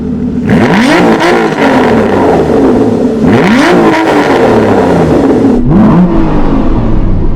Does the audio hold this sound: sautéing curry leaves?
no